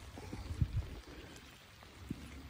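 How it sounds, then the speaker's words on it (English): Cold rain falls steadily during a night catfishing trip, a faint soft patter with a few scattered drip impacts and no talking. "This rain colder than a well digger."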